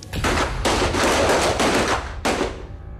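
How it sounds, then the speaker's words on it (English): Gunfire booms out in a loud, close volley of several rapid shots, each with a sharp blast that rings out briefly before the next, with no voices. "The gun."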